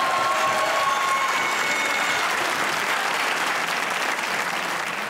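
Studio audience applause at a comedy talk show, a dense steady wash of clapping that stays loud and even for the whole stretch.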